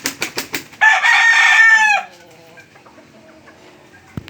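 A fighting rooster being readied for a cockfight clucks several times in quick succession and then lets out one loud, drawn-out crow close by, followed by faint background noise.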